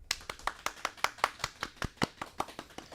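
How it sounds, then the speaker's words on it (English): A round of applause for a car-event organizer on a car-scene talk show: a few people clapping in a fairly regular rhythm, close and distinct individual claps, thin rather than a full crowd. "So let's give it a round of applause for Eli."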